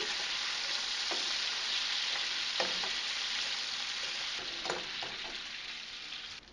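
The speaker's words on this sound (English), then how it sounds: "periodically stir around the bacon" Bacon fries in a pot with a steady, even sizzle, interrupted now and then by the soft scrape of a utensil stirring it, fading slightly at the end.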